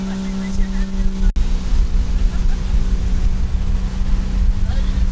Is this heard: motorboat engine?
yes